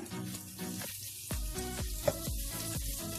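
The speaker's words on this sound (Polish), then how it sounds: "i ładnie przesmażyć z pieczarkami cebulkę." Onion and mushrooms frying in a pan, a steady sizzle broken by a few scraping stirs and clattering touches of a utensil, close and clear.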